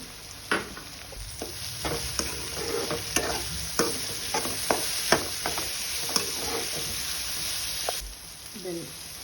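Capsicum frying in a pan with tomato paste during vegetable fried rice preparation, a steady sizzle under repeated spatula scrapes and taps in an irregular rhythm, close and fairly loud.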